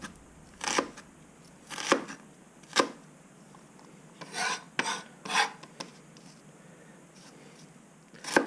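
A big knife slices and cubes an onion on a board in quiet, spaced strokes. About seven or eight short rasping cuts come at an irregular pace with no talk.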